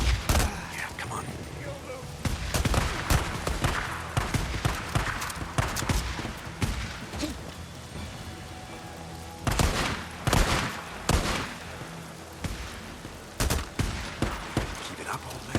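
Repeated bursts of gunfire in the video game Days Gone, sharp shots in clusters with pauses between volleys, loud over a steady background din.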